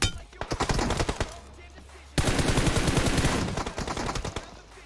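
Rapid gunfire from a PUBG-style video game shooter, starting with single close shots and then long dense automatic bursts, loud and sustained with a short pause between them.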